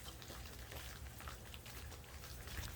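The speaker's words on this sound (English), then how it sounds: "we're out here in the rain right now" Steady, faint outdoor rain hisses evenly throughout, a dense patter of drops on surfaces with no talk over it.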